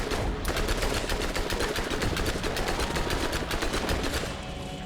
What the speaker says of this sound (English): get our SMG going